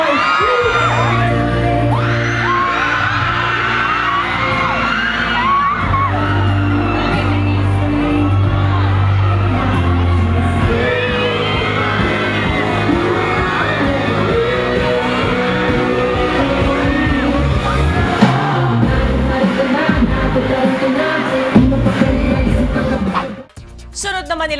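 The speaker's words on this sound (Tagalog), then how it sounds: "Look at the crowd!" A large crowd cheers, whoops and screams loudly at a shopping mall movie-tour show, a continuous roar with music and amplified voices underneath that fades out near the end.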